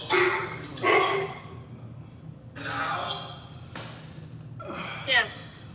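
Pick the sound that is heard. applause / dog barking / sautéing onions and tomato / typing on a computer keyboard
dog barking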